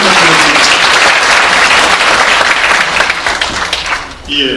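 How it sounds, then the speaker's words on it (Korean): Loud, dense applause from a forum audience fills the space and holds steady before tapering off at the end, with a voice briefly rising over it. "큰 박수 부탁드리겠습니다."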